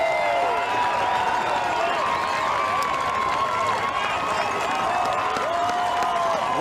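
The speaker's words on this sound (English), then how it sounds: "Listen to the crowd." Baseball crowd cheering after a game-ending swinging strikeout on a curveball, a steady, dense roar of voices and whistles filling the stadium, with a commentator's voice faintly over it.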